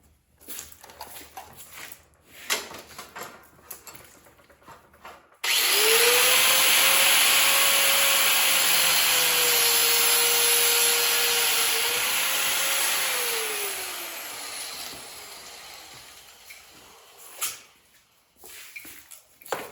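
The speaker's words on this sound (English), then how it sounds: "I'll take the angle grinder and just cut it right there with a cutoff disc." An angle grinder with a cutoff disc cuts through a junkyard car part for a budget F-body build, spinning up to a loud, sustained whining grind for about eight seconds, then winding down, with quieter handling noises before and after.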